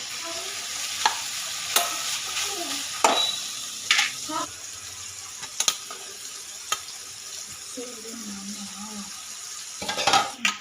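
Cooked, drained rice stirred into a fried mint and coriander mixture in a pan, with a soft sizzle under repeated scraping strokes and sharp clanks of a spoon against the pan at irregular intervals.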